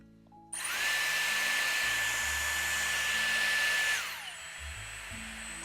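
A Dyson Airstrait hair styler switches on with a click and rises into a loud, steady whir of blowing air, runs evenly for a few seconds, then winds down to a quieter hum, close by with no speech.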